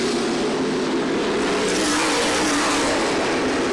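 Race cars roaring past at Kalamazoo Speedway during a late-lap feature, a loud continuous wall of revving engines close by with a shifting pitch as the pack sweeps through.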